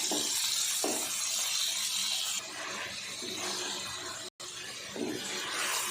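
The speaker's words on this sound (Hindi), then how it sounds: "तीन से 4 मिनट हमने अच्छे से मसाला फ्राई कर लिया है।" Masala of roughly chopped onions and tomatoes frying in a pan for a chicken masala curry, a steady soft sizzle and hiss with occasional stirring scrapes, fairly quiet and without voices.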